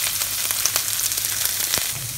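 Mixed vegetables fry in a pan with a continuous close sizzle and crackle, punctuated by a few light scraping stirs, steady and moderately loud throughout.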